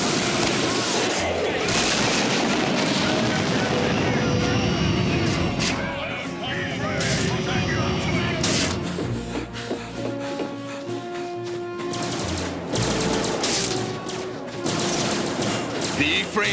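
Rapid bursts of animated sci-fi gunfire shooting down E-frames crackle continuously over a dense music score, with explosive booms scattered throughout and a voice briefly heard.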